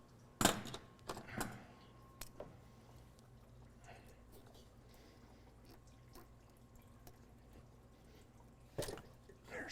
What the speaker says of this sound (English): since I'm already draining coolant anyway, I'm just going to go ahead and disconnect these